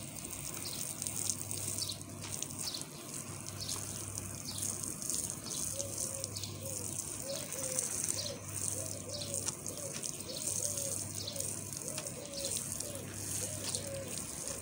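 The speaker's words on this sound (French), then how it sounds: "Donc je prends un petit pistolet comme ça en haut. Et hop. Et j'arrose bien." A hose spray nozzle waters a garden furrow in a vegetable plot, giving a steady, close hiss of spraying water that runs unbroken throughout, with faint birdsong in the background.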